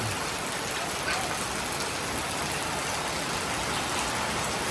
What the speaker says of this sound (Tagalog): Grabe ang lakas ng ulan na naman.